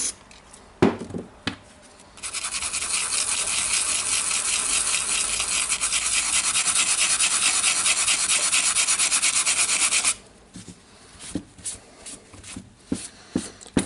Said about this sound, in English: it's getting out with a wire brush